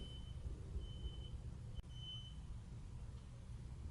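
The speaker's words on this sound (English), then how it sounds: "Why is there beeping outside?" Faint, distant electronic beeps sound intermittently over a low outdoor rumble, like a vehicle warning tone heard from inside.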